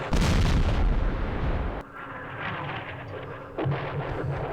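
Heavy artillery barrages in the Vietnam War strategy game Campaign Series Vietnam: a dense, loud rumble of booming shots for about two seconds, then a quieter sustained roll of distant fire with a renewed surge near the end, no voices.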